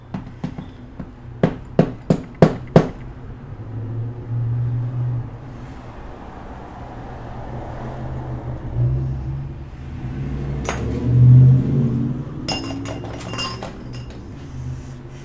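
Hammer whacks an object in a quick series of about seven sharp, loud strikes, then a quieter stretch of low rumbling and clattering with a few scattered metallic clinks later.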